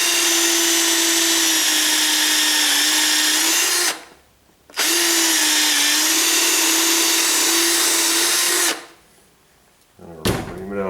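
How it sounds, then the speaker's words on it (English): An electric drill with a 5/16 inch bit runs in two long, loud steady whirring bursts, close up, separated by a brief pause and followed by a short final spin. "So I'm just going to drill me a hole."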